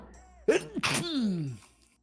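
A single sharp sneeze bursts out nearby, with a quick in-breath and a drawn-out, falling tail.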